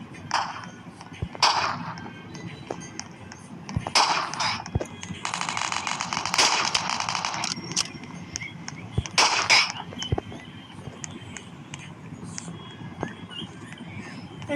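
Sharp bursts of gunfire from the Roblox shooter game Fortline crack out in several separate volleys, one longer sustained spray in the middle, over a low background of game sound.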